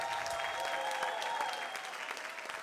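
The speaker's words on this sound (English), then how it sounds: "Ladies and gentlemen, huge round of applause for Claudio" A comedy show audience applauds the Italian comedian Claudio Capri, steady crowd clapping sustained throughout at a moderate distance, with a faint tonal hum running underneath and no voices.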